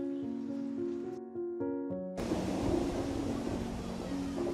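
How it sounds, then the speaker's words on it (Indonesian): Heavy rain pours down in a thunderstorm, arriving suddenly as a dense, loud broadband roar that takes over after a quieter stretch of steady tones, then keeps a continuous hiss. "tiba-tiba hujan turun dengan sangat lebatnya"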